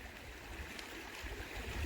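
Steady rushing stream at a kayak crossing, a dense broadband wash of flowing water, fairly faint and continuous with no voices.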